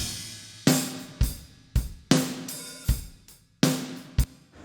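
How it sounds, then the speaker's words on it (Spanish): A drum kit pushed through a heavy compression bus, the snare loud and forward while cymbals, kick and toms sit low; sharp hits repeat in a steady groove, each followed by a squashed, sustained tail, with no talking. "en este bus de compresión vamos a tener una batería que suena así"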